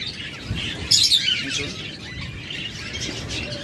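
Rainbow budgerigars chirp and tweet in short bright bursts, close by, over a steady busy background of other caged birds.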